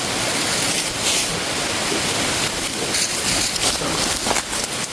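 River water rushing and flowing in a continuous loud broadband wash, close and steady throughout with no talk over it.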